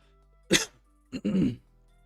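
Two harsh coughs, the second a longer rasping burst, close and loud against near silence.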